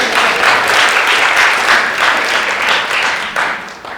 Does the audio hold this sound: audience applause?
yes